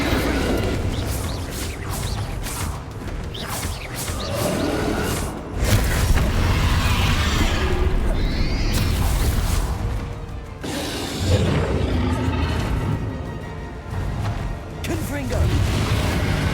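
Repeated Bombarda blast spells in Hogwarts Legacy go off as deep booms and crashing impacts with whooshing bursts, loud and close, mixed with a voice speaking through much of the combat.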